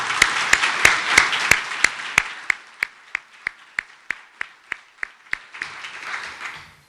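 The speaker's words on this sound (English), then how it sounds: "Let's give him a round of applause for coming up." Applause at a downtown development lecture in Wichita starts as a brief burst of several hands, then thins into single sharp claps spaced evenly in a slow, steady rhythm, with faint murmuring at the end.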